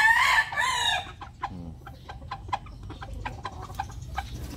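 Breeder hens, pullets and roosters make a loud, close crow at the start, followed by scattered clucks and short calls from several birds.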